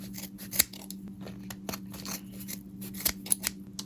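Scissors snip through the hair of a Bratz doll, giving a handful of sharp, close cuts spaced irregularly over a low steady hum, with no talking.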